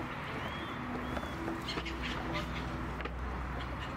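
Gulls call intermittently over a foggy fishing harbor near Trabzon, short faint cries against steady low background rumble, with a voice speaking softly over them.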